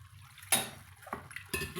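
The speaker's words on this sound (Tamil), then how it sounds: "இந்த ஜாரை கழுவி நான் வந்து அந்த தண்ணியை அதில் சேர்த்துட்டு நல்லா கலந்து விட்டுறலாங்க" Rinse water from a washed blender jar is poured into a tamarind curry made with tomatoes, giving brief splashes and light clinks of the jar against the pot amid quiet kitchen sounds.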